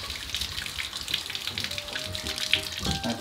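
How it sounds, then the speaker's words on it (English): Water runs from a tap into a sink while a mouse pad chess board is being cleaned, a steady splashing gush that holds throughout, close and fairly loud. "A little bit of water."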